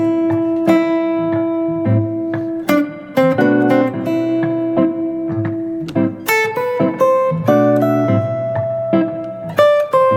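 An electric guitar plays a lead phrase of plucked notes and bends over a minor chord, resolving on the fifth, E, loud and close with no talk.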